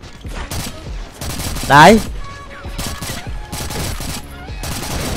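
Bursts of RPK light machine gun fire in the online shooter CrossFire HD, rapid repeated volleys with a short gap between them, while players talk excitedly over the gunfire.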